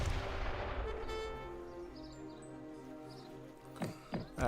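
Mortar artillery fire in an Age of Empires 3 match, heard as booming game blasts with a sharp burst at the start and more thumps near the end, over a continuous layer of battle noise.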